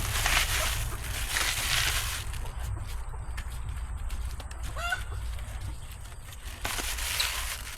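Backyard chickens clucking near a hanging bundle of tomato plants and leaves set out for them to peck, with short clucks scattered through steady outdoor background noise.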